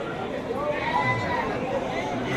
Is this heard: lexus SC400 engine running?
no